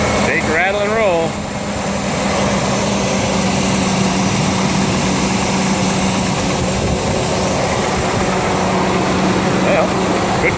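A cold-started 5.3 V8 engine with freshly changed intake manifold gaskets runs at a steady, loud, rumbling idle, with a brief voice near the start and a continuous mechanical drone afterward.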